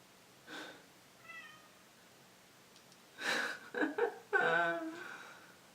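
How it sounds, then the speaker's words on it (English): A pet cat meowing indoors in a home, several short close meows in a row, the last ones louder and longer, with quiet room noise between them. "our cat is meowing"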